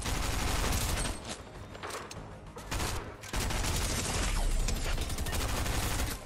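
Rapid gunfire from the Fortnite video game in no-build mode, a dense, loud, continuous barrage of shots and bursts that runs almost without a gap, with one short dip partway through.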